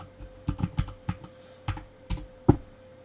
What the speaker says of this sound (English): you're gonna notice a much more fluent aspect of me typing